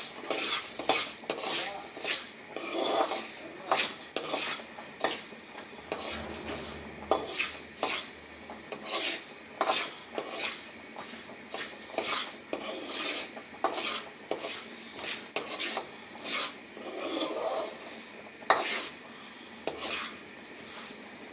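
Brinjal rice ingredients for vangi bath frying in a pan, with a steady run of metal utensil scrapes and clinks against the pot as the mixture is stirred, close and fairly loud, over a faint sizzle.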